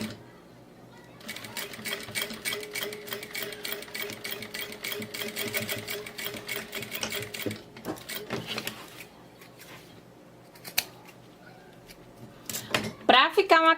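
A sewing machine stitches folded bias binding onto an Emília bag in a fast, even run of needle strokes, pausing, then resuming in short bursts close up, with a voice speaking over parts of it.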